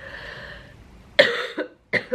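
A few sharp coughs up close, coming in quick bursts after a soft breath.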